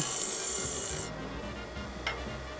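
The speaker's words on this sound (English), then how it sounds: "A 3/4 inch roughing gouge to make it round." A 3/4 inch roughing gouge cuts wood spinning on a lathe while a lidded box blank is rounded, a close, continuous harsh rasping hiss that thins partway through with a brief sharp scrape.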